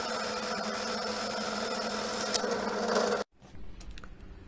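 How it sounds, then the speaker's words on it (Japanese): Sandpaper rubbing inside a 20 mm hole drilled in a 3 mm wooden board, widening it to fit a garden light pole; a steady, close scratchy abrasion that stops abruptly, followed by a brief quieter rub. "穴をペーパーで広げて完成です。"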